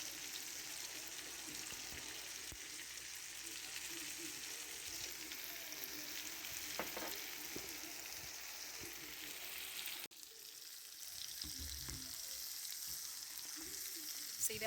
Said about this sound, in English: I'm cooking these and searing these over a medium-high heat